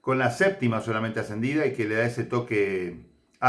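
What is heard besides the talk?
No distinct noise like a dog, phone or traffic.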